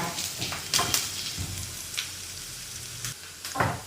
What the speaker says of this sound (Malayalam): അപ്പം ഇഞ്ചി ഇവിടെ മൂത്ത് വന്നിട്ടുണ്ട്.